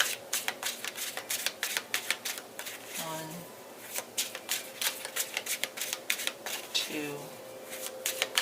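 Tarot cards are shuffled three times, making rapid, crisp riffling clicks in steady bursts throughout while a voice counts along.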